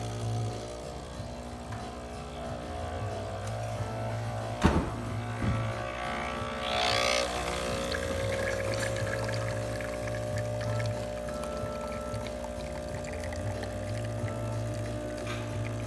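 A Breville espresso machine, just back from service for a low-pressure fault, pulls a double shot with a steady low pump hum and a soft liquid pour, broken by a sharp clunk partway through.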